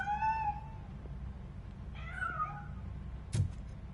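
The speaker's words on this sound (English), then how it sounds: "That cat must be hiding inside." A cat meows in the video game Robocop: Rogue City, a few drawn-out, wavering cries near the start and a shorter meow midway, over a low steady game ambience with a brief sharp clatter near the end.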